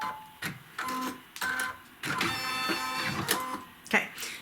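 An embroidery machine stitches a design of bats, a rhythmic mechanical whirring and clattering in short bursts with pauses, while a person talks over it.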